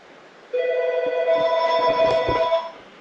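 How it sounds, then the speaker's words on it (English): A telephone rings with a bright, warbling electronic tone that starts abruptly and continues for about two seconds, close and fairly loud. "Oh, I got a phone call."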